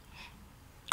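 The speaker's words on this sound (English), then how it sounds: "I feel good to get those sneezes out." A child sneezes once, a sudden sharp burst at the very end after a faint intake of breath, close to the microphone in a quiet room.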